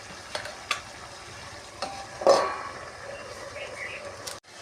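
Potato and pumpkin greens stirred in a pan with a few scraping, clinking strokes over a low sizzle, near and fairly quiet, with one louder scrape midway.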